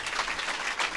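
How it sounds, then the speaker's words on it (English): Audience applause at a startup talk, a steady dense wash of clapping filling the whole moment with no voices over it. "Can we give Kevin a big round of applause?"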